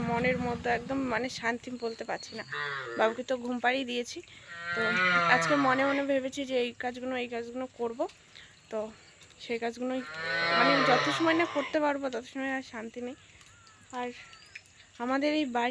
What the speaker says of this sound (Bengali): বেড়ার ওই পাশটা সব গরু বাছুর এসে সব ডাকাডাকি করছে